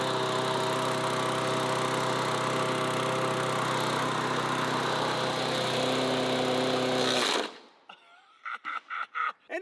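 A lawn mower engine runs nearby with a steady droning hum that cuts off abruptly, followed by several short bursts of talk from a person in the quiet afterward.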